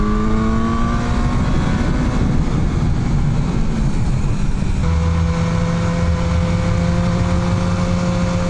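A BMW S1000R motorcycle engine pulls steadily in fourth gear while riding, a loud continuous drone with shifting harmonic tones and heavy wind rush throughout.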